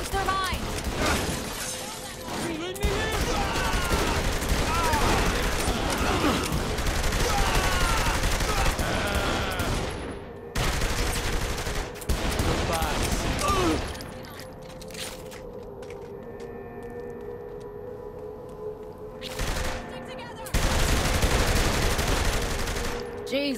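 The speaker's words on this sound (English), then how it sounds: "Shooting them probably doesn't help change their minds." Bursts of gunfire in Saints Row The Third, rapid volleys crackling in several loud stretches separated by quieter gaps filled with engine hum and ambient noise, with a voice talking in between.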